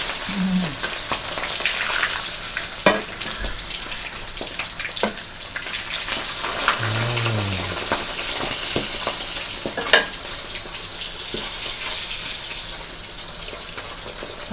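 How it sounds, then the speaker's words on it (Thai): Mackerel frying in oil until golden and crispy, a constant bright sizzle and spatter with occasional sharp clicks and faint low background sounds. "ขณะทอดปลาทูนะคะ"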